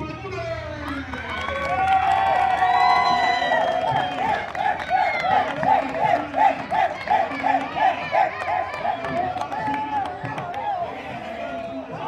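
A large crowd cheers and claps with rising excitement for the winners at a Tastoán festival, an announcer's voice carrying over the noise.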